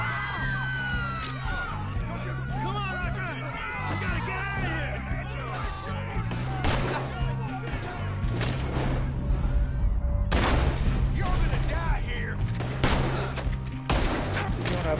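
Gunfire in the video game Red Dead Redemption 2, rapid volleys of shots crackling through a chaotic shootout with shouting and whoops from the crowd, dense and loud, intensifying near the end.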